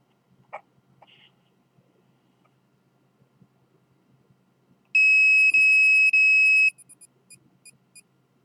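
An RF detector alarming, a loud steady electronic beep sounding in three long pulses followed by a few shorter chirps, after quiet faint handling noises.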